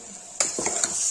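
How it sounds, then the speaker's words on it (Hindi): A spoon stirs Kashmiri turnip curry in a pan, making a few close scraping strokes over a faint steady sizzle. The clip is short and has no speech. "इसको चला देंगे।"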